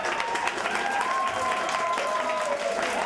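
An audience at a mountain film festival applauds a host, steady dense clapping throughout with voices and a faint tonal sound underneath.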